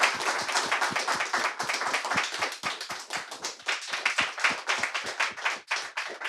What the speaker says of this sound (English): Let's give a big round of applause for both of them.